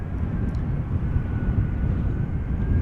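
An airliner arriving in crosswind conditions at Amsterdam Schiphol Airport produces a steady, loud, broad jet roar that continues throughout without pauses.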